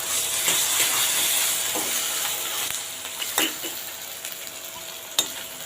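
Onions and ginger-garlic paste fry in a pan, making a steady, close sizzle that softens midway, with scraping stirs and a few sharp clinks of the spoon against the pan.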